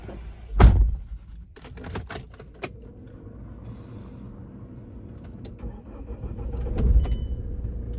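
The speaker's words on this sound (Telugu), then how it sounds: "కార్ అయితే స్టార్ట్ చేశానండి చూసుకోవచ్చు" A 2018 Mahindra XUV500 W4 SUV starts with a loud thump of ignition, then settles into a low, steady idle with faint clicks and a second swell of engine noise near the end, heard close with no talk.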